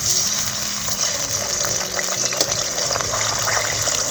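Katla fish pieces fry lightly in hot oil in a heated kadai, giving a steady, close, broad hiss with no speech.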